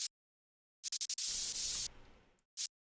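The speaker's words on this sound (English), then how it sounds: "Let's actually just get white noise." Broadband white noise used as a sound-design layer, heard as a few short clicks of hiss and then a longer burst that fades out, followed by one more brief blip, isolated against silence.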